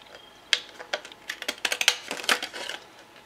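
Pinking shears snip through paper in quick, crisp clicks and crunches, several close cuts in an uneven rhythm with no talking.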